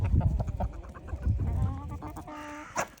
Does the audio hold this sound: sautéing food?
no